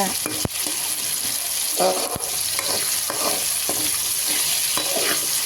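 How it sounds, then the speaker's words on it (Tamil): Onion, tomato and garlic sauté in a pan with a loud, continuous sizzle, punctuated by repeated spatula scrapes and knocks at an uneven stirring rhythm. "வெங்காயம் தக்காளி பூண்டு எல்லாமே நல்லா வதங்கி வரட்டும்"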